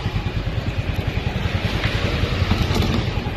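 A Yamaha Fazzio scooter fitted with a two-way alarm runs close by at a steady idle, its engine putting out an even, rhythmic low pulse that never drops off.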